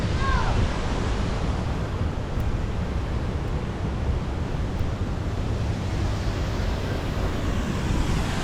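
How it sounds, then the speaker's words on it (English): Waterfalls in Indianapolis, a steady, dense rushing roar of falling water that holds constant throughout, loud and nearby with no talking over it. "those are waterfalls"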